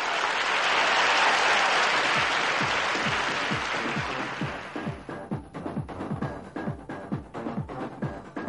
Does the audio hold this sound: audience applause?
yes